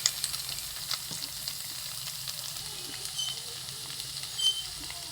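Boiled, squeezed banana stem going into a pan of sizzling masala, a steady close frying hiss with light stirring and scraping throughout.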